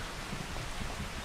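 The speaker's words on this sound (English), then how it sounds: "It's raining and thunders." Steady rain hisses evenly in a Farming Simulator 25 countryside farm scene, with a low rumble of thunder faintly underneath and no voices.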